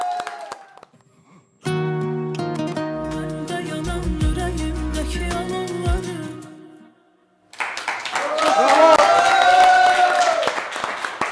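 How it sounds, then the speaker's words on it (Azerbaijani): Studio audience applause on a TV talk show breaks out as a loud, dense burst of clapping after a stretch of music with singing, filling the last few seconds. "Alqışlar dostlar"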